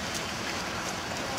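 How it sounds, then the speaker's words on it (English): Hard rain falls outdoors near a fishing net in a steady, dense hiss with no pauses, fairly faint overall. "Now it's raining hard"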